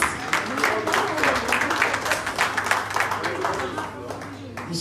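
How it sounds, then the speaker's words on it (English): A round of applause at a town hall meeting and fundraiser in Manchester, scattered hand claps rising and falling over a few seconds, mid-level in volume, with people talking over and beneath the clapping and a low steady hum behind. "can we have a round of applause for Comrade Joe?"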